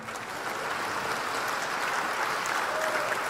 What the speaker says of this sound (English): Please give a warm applause to Michele from Facebook in London.